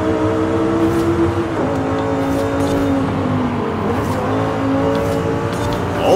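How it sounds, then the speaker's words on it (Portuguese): An Audi R8 in Forza Horizon 5 on Xbox Series X, its engine holding a steady high drone with rising and falling rev pitch, loud and continuous with no talk. "Olha o ronco do motor, pessoal!"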